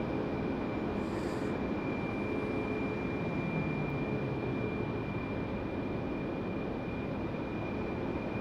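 Airliner passing at Raleigh-Durham International Airport, a steady distant jet rumble with a thin engine whine holding level throughout, no speech.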